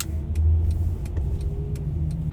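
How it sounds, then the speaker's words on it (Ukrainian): School buses driving past on a street, a close, moderately loud engine rumble and road noise that holds steady for a few seconds; no speech. "А тут відразу а, автобуси шкільні вже їдуть."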